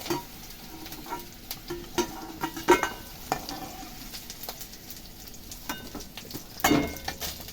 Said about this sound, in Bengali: আলুগুলো আমি লাল লাল করে ভেজে তুলে নেব।